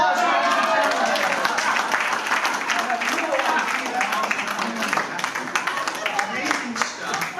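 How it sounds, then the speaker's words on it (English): Audience applause rises at a magic competition show, with a crowd clapping steadily under a fairly busy background of voices and room noise for several seconds. "Give her a big round of applause."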